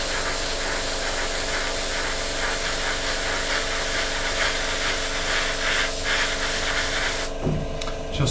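An airbrush lays a light coat of paint onto a Tamiya 1/48 scale P-47D or P-51D model plane, giving a steady, close hiss of spray that runs continuously, with faint rubbing and handling noises and a brief shift near the end.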